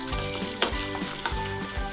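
Garlic frying in oil and butter in a pan, a steady close sizzle with a few sharp utensil knocks against the pan.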